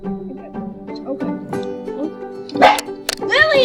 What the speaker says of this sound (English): Lily, please don't bark